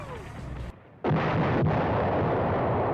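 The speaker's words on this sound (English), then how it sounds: "Explosions light up the southern fields," Battlefield explosions across southern fields during a tank clash: a rumbling blast gives way to a brief lull, then a sudden heavy boom erupts and rolls on as a sustained, loud roar, with a second impact hitting partway through.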